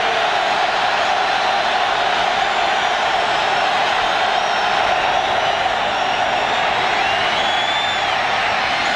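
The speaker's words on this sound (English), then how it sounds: "Harvey getting the chant from the Kansas City crowd" Kansas City home crowd at a Chiefs football game against the LA Raiders, a steady loud roar of stadium noise throughout, with a sustained massed chant rising out of it.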